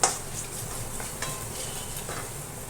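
Fennel and coriander seeds sizzle in a pan for a Makhana chivada, a soft, steady hiss close by with a few light clinks and stirring scrapes.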